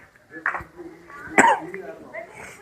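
A person coughs once sharply amid nearby talk on a trip in Dirang, Arunachal Pradesh, with a few softer throat sounds and murmuring voices around it.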